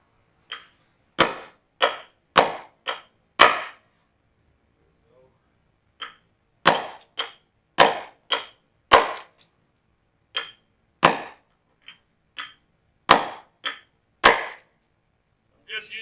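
Sharp metallic hammer blows strike a wheel hub resting on a block, in bursts of several hits, pausing between groups, loud and ringing against a quiet background.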